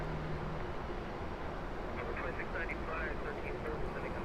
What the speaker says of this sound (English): So up next we have a 737 that's headed to Dallas Fort Worth. American Airlines 395 is on its takeoff roll.